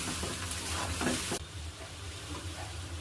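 Boiled chow mein and fried egg are stirred in a hot pan, giving a steady close sizzle with scraping movement and a brief louder hiss at the start.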